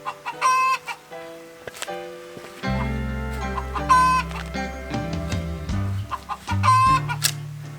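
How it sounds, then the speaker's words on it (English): A hen cackles loudly in repeated bursts after laying an egg, with other chickens clucking and calling around it, a busy coop chorus with no talk. "Apologize for the chickens. Somebody obviously has just laid an egg and is very proud of it."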